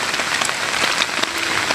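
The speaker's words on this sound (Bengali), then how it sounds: "বৃষ্টি নামতে আছে বন্ধুরা," Rain patters steadily on a water-lily pond during a village line-fishing outing, a dense, even hiss of drops with scattered louder taps, close and continuous.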